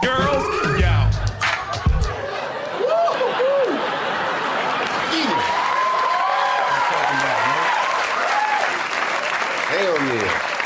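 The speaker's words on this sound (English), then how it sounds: "We do our raps and then the crowd goes wild." A crowd cheers and applauds after a rap performance, with loud, dense clapping that continues steadily, mixed with laughter and voices talking over it.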